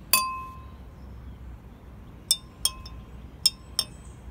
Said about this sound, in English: And now you can even use that spoon to stir it.